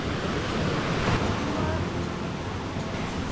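Stream water rushes along the densely vegetated Zhukengxi trail in Meishan, near waterfalls, as a steady broadband roar filling the whole moment at close range.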